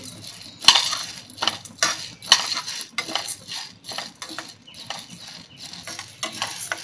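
Half a kilo of chana dal is dry-roasted in a pan, with rustling and scattered clinks and scrapes as the lentils are stirred and turned, intermittent and close, with no sizzle of oil.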